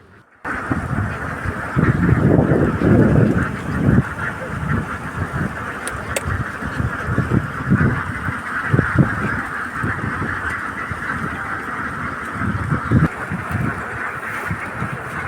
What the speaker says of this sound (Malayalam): ഇതിപ്പോൾ വേറൊരു കണ്ടത്തുനിന്ന് ഇപ്പുറത്തേക്ക് കണ്ടത്തിലേക്ക് താറാവിനെ കൊണ്ടുപോവാണ്